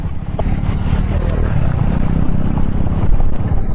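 A Triumph 400X motorcycle rides a gravel trail, its engine a steady close rumble mixed with wind and crunching tyre noise, continuous for a few seconds.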